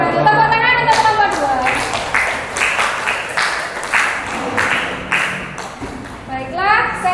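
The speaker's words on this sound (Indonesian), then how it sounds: "Tepuk tangan untuk kelompok" A classroom of students claps for a presenting group, several bursts of close, lively hand clapping mixed with children's voices, swelling and fading in waves.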